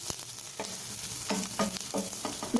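Finely grated coconut roasting in ghee for a sweet vermicelli pongal, with a steady soft sizzle broken by repeated scraping strokes of a spoon stirring the pan.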